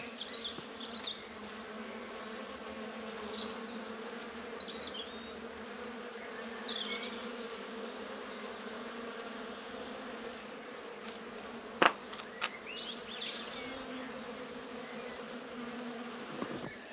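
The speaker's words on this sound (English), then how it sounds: "The bees can't get enough of that Cotonia star." Steady buzzing of bees hovering around Cotonia star flowers nearby, a continuous low drone with faint bird chirps in the background and one brief sharp click.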